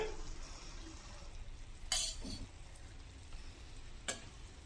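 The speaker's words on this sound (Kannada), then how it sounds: "ಪೆಪ್ಪರ್ ಪೌಡರ್ ಹಾಕ್ಕೊಂಡು ಚೆನ್ನಾಗಿ ತಿರುಗಿಸ್ಕೊಂಡು ಫ್ರೈ ಮಾಡ್ಕೊಳ್ಳೋಣ" Vegetable fried rice sizzles in a pan as it is stirred with pepper powder added, a steady soft frying hiss with a couple of sharp utensil clinks against the pan.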